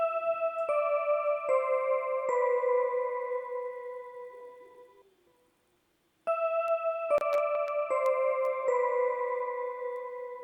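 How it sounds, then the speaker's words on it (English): Bell tones layered over a lofi beat with piano and an atmospheric pad, struck in a repeating melodic pattern of bright ringing notes that sustain and fade, a silent gap midway, then the phrase resumes alone. "I added a bell."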